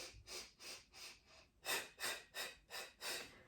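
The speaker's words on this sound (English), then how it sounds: "So we're breathing" Rhythmic breathing during the Pilates hundred exercise, about ten short, forceful breaths in even pulses, close and clear with no talk.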